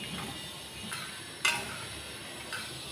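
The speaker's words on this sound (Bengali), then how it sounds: "কড়াইতে দিয়ে দিলাম সরষের তেল, 5 ফোড়ন।" Panch phoron sizzling in hot mustard oil in a wok, a steady soft frying hiss with a few faint clinks and one sharper tap partway through.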